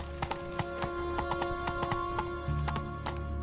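Roach the horse gallops in Witcher 3, a steady rhythm of hoof clip-clops over a sustained musical drone, with a brief whinny-like swell near the end; no voices.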